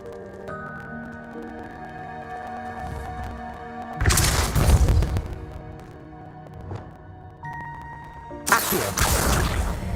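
Depulso spell being cast in the Hogwarts Legacy video game, two loud bursting blasts about four seconds apart over a sustained musical game soundtrack.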